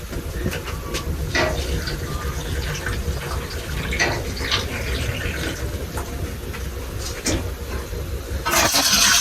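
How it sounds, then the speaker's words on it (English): Tap water runs and splashes into bowls of mushrooms being readied for pressure canning, a steady close pouring rush with small clinks, ending in a louder gush. "now I'm going to put some water in these so that I can get these cooking"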